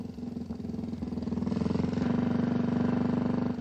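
A BMW R2 motorcycle with a horizontally opposed twin engine and shaft drive runs steadily with a throbbing, pulsing exhaust that builds slightly in loudness, close and alone without talk.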